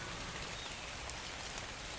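Steady, soft rainfall in the survival video game ARK, an even wash of drops pattering without pause and heard alone at low volume.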